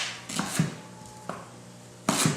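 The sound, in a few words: knife dicing leek on cutting board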